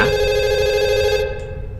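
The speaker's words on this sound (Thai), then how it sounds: "เสียงโทรศัพท์สงสัยพ่อแม่จะโทรหา" A telephone rings loudly in the horror video game Fatal Midnight, a steady electronic ring that holds for about a second and then cuts off abruptly, leaving low background noise.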